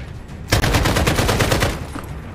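A rapid burst of automatic gunfire in a modern warfare video game, loud and close, with steady repeated shots for over a second before trailing off.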